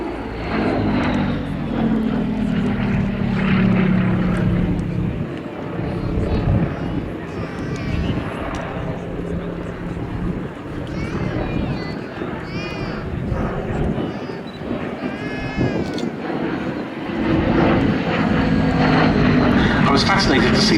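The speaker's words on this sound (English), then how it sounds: "The Bristol Gladiator." A Bristol Gladiator biplane fighter's piston engine rumbles and drones steadily at the Duxford summer air show, its pitch shifting as it passes, with a voice talking over it.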